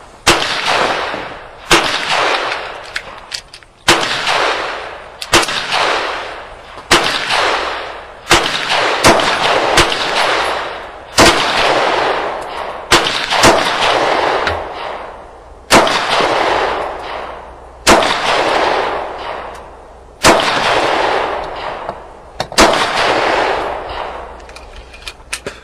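Ruger LC9 pistol firing USA ammo at a target about seven yards away, loud sharp shots coming in quick strings with short pauses between them, each crack ringing out briefly, with no talking over the shooting.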